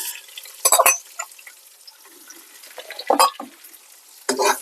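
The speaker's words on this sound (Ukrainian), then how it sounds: "починаємо верніше смажити солодкий перець" Sweet pepper frying outdoors over moderate heat, stirred in a pan for an eggplant sauté: a few sharp scraping, sizzling bursts of the spoon separated by quieter stretches of low sizzle.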